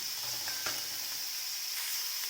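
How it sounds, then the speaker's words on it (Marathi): Onion browning in a pan with a pinch of salt, a soft, even sizzle with a couple of sharp stirring clicks early on, fairly quiet and without any voices. "कांदा चांगला लालसर असा भाजून घ्यायचा"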